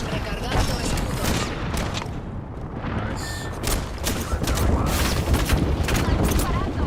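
Heavy gunfire from a squad-based shooter video game rattles in dense, overlapping bursts throughout, loud and close, with explosive booms and mechanical clatter mixed in.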